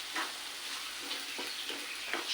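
Fried taro root pieces are stirred in a hot pan while cooking a taro and egg tamarind curry, a steady close sizzle broken by a few scraping strokes of the spoon.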